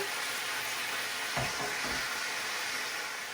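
Pork belly sears in a pan with a steady, close sizzle, broken by a couple of brief thumps and clatters as the meat is pressed down, and no voices.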